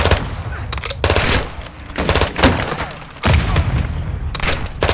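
Sustained automatic gunfire in Modern Warfare II, with dense rapid bursts in several clusters and brief lulls between them, loud and close throughout.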